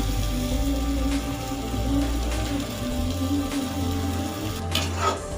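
Crushed mustard paste goes into a pan of chanda fish and sizzles in a steady, hissing crackle. A faint clink comes near the end.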